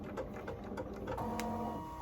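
A Ricoma embroidery machine stitching out a hand sanitizer holder: a continuous, fast mechanical whirring and rapid needle chatter at close range, steady and without pauses, and nobody speaking.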